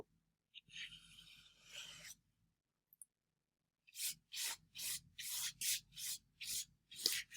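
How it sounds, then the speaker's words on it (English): A flat paintbrush strokes paint onto canvas in a series of short, rhythmic scratchy brushing sounds, one longer stroke first, then a quick run of even up-and-down strokes, close and soft. "I'm using a continuous up and down stroke to fill in the can"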